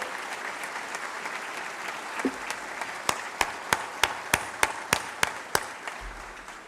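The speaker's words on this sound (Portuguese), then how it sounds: "Uma salva de palmas a esses que construíram a história desta instituição." A round of applause from the audience at the swearing-in ceremony of the Rio Grande do Sul bar association president. A steady wash of crowd clapping breaks into a run of sharp, evenly spaced claps close by.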